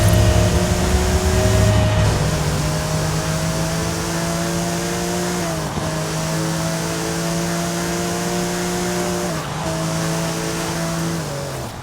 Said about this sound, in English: I stayed in the Porsche 959